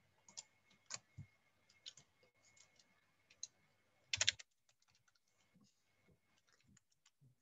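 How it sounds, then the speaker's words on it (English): Computer keyboard typing at close range, bursts of quick key clicks with pauses and a dense flurry of keystrokes partway through, quiet overall with no talking. "Typing."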